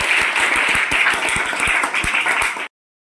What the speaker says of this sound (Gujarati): ખૂબ સરસ, જોરદાર તાળીઓ.